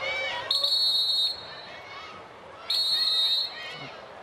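An umpire's whistle at a women's World Cup field hockey match between Germany and Argentina, two sustained shrill blasts separated by a pause, heard over crowd noise and a commentator's voice.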